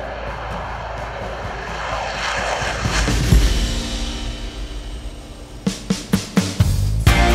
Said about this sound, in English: I've just been up flying the first Brazilian aircraft that you can see behind me.